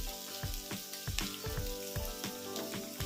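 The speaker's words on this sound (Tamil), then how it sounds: "நல்லா எண்ணெயிலே நல்லா வதங்கி வரட்டும் கத்திரிக்காய்." Brinjal fries in hot oil in a home kitchen during lunch preparation, giving a soft, steady sizzle with frequent small crackling pops, faint and close, with no talk.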